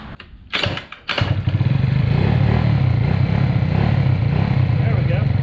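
A 50cc GY6 scooter engine is kickstarted with a couple of thumping kicks, then catches and runs at a steady, slightly rough idle, loud and close, with no talk over it.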